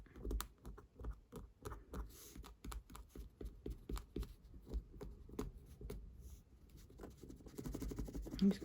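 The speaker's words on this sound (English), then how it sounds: "I'm going back and forth" Tool rubbing back and forth to burnish 24k gold into the crack of a broken cabochon in kintsugi repair, a soft run of quick, irregular scratchy taps and strokes, close and faint.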